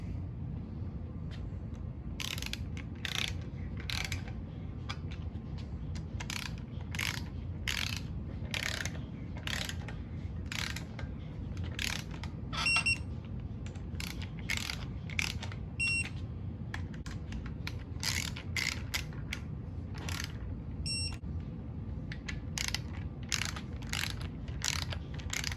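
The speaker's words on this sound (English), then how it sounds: "when I tighten down the fuel rails, I just use the DeWalt" A DeWalt power tool tightens fuel rails on a Gen V 5.3 L83 engine, giving a long run of sharp, regular ratcheting clicks and short mechanical bursts over a steady low hum, close and fairly loud.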